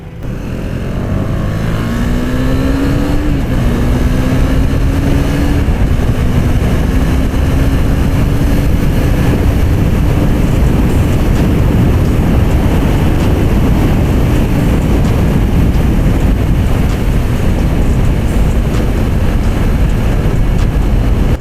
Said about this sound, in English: That's a Ducati Monster, right?